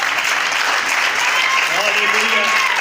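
A church congregation claps for the Lord in steady, full applause, with voices calling out over the clapping toward the end.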